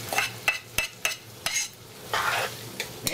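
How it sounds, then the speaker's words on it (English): Beans being stirred in a pot for a Surinamese dish, with repeated sharp clacks and scrapes of a spoon against the pot over a soft bubbling sizzle, close and fairly loud. "we're gonna give this a good stir"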